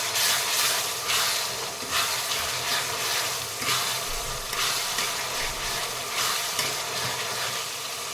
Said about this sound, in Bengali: এবার আদা রসুনটা ওর সাথে দিয়ে ভালো করে ভেজে নেব।